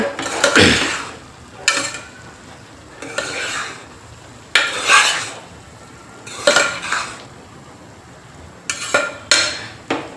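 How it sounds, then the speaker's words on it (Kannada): Spoon stirring a large spoonful of peanut powder into a North Karnataka festive dish in a metal pot, repeated scraping, clattering strokes in irregular bursts, close and fairly loud. "ಒಂದು ದೊಡ್ಡ ಸ್ಪೂನಷ್ಟು ಶೇಂಗಾ ಪುಡಿ ಅಷ್ಟು ಹಾಕ್ಕೊಂಡು ಚೆಂದಾಗಿ ಮಿಕ್ಸ್ ಮಾಡ್ಕೋತೀವಿ"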